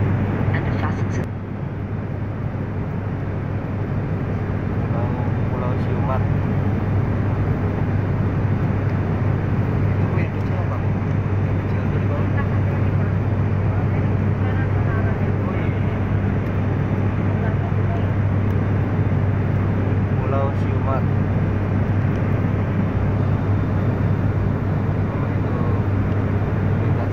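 After landing near Simeulue island, the airplane cabin fills with a steady low engine and airflow drone that holds throughout, with faint voices murmuring underneath.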